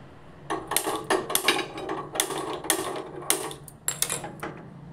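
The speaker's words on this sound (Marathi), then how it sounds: "गॅस चालू करून" A gas stove is switched on in a home kitchen with a quick series of sharp, close mechanical clicks and ticks, irregularly spaced over several seconds.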